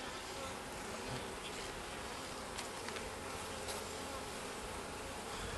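Honey bees in an open, queenless hive hum in a dense, steady swarm drone that holds close and even from start to finish, with no voices over it.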